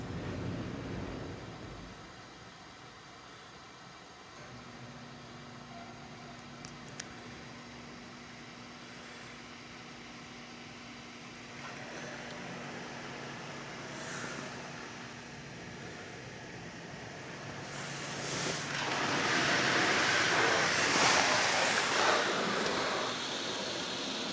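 A Laserwash 360+ touchless automatic car wash runs in bay 2 at Glacier Bay Car Wash in Detroit Lakes, MN: a steady mechanical drone with a faint hum, swelling into a louder rushing spray near the end, with no voices.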